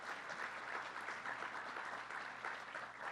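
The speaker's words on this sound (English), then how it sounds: "Let's give them a round of applause." Steady, dense applause from an audience at a public event honoring state senators and an assemblyman, sustained and even for the full stretch with no voices over it.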